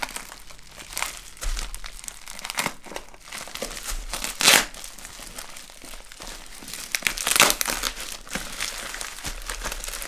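Cardboard box and its packaging being pried open and wrestled with, giving close, repeated crinkling and crumpling bursts with a few sharper tearing rips, no voices present.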